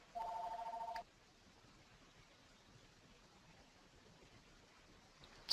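A telephone rings once near the start as a short, clear electronic trill lasting about a second, followed by quiet hiss, with a faint click at the very end.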